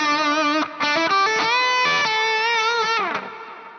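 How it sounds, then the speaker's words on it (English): Electric guitar run through a Line 6 Helix with delay and reverb, sustained melodic notes ringing out with shimmering echoes, loud and close, with no talking over it and a trailing fade at the end. "And then with the delay and the reverb,"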